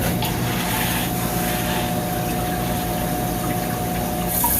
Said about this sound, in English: That's way more water flow than I was getting before.